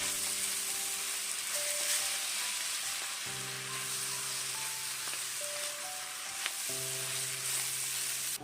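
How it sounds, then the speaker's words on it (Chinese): Noodles with egg are stir-fried in a wok, giving a steady bright sizzle with occasional scraping and tossing sounds, close and continuous, no speech. "继续给它翻炒片刻。"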